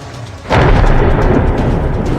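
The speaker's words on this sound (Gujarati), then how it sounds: "કડાકા ભડાકા સાથે વરસાદના આ દ્રશ્યો છે સાવરકુંડલા, લાઠી અને તેલિયાના" A sudden loud crack of thunder breaks into a deep, sustained rumble over heavy rain in Amreli, Gujarat, close and powerful.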